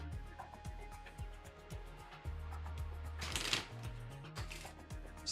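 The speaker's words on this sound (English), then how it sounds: "I'm gonna give this a shuffle" A deck of cards for the Cities: Skylines board game is shuffled by hand, with a series of soft riffling and tapping bursts close to the listener, no talking.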